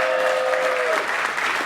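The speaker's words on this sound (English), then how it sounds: "Round of applause for Supergirl." Fan convention audience at a Superman celebration Q&A claps together in a brief, dense burst of applause, with a faint tonal whine running through the first half.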